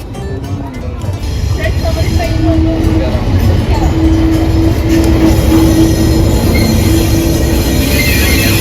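The Ooty toy train rolls along its rails with a loud, steady rumble, a high metallic wheel squeal drawn out over several seconds and faint clatter, while people's voices carry over the noise.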